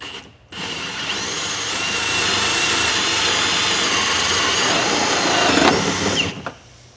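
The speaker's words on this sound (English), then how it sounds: "So now we're going to go ahead and drill our front hole" A hole saw grinds steadily through material for several seconds while fitting a tree bar on a Can-Am Maverick X3, a loud continuous whirring rasp that winds down and stops at the end.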